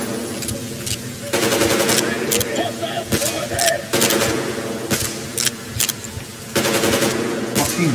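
The player's gun firing in Metro Exodus: loud close bursts of rapid automatic fire alternating with short pauses, mixed with game noise and a voice talking at times.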